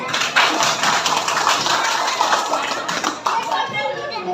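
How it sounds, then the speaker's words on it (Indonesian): A primary school class breaks into a burst of clapping, many small hands patting unevenly and close by, with children's voices mixed in throughout. "Tepuk tangannya mana nih?"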